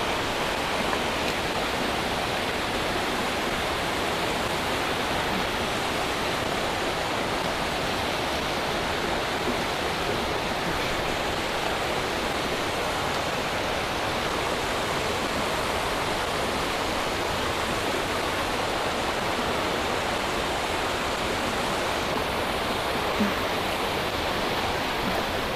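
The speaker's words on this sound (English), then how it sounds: "Guessing this is the top of the falls." A waterfall roars steadily from the top of the falls, a dense, loud, unbroken wash of rushing water that holds constant throughout with no voices.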